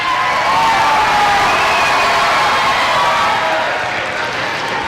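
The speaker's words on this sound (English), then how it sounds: "Rarely do deans get such an applause." A high school student audience applauds and cheers for the school deans at an assembly, a loud, dense roar of clapping and whoops filling the space continuously for several seconds.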